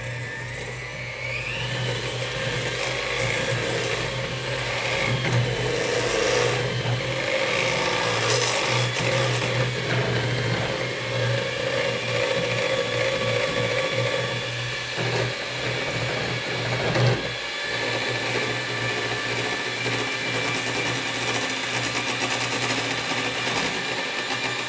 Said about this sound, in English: so we just use our little hand mixer